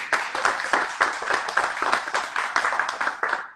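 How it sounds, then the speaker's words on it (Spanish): An audience claps for a speaker at a conference on LGBTQIA rights, a dense steady burst of many hands close and loud, lasting several seconds without a pause. "Un aplauso para Yubi, por favor."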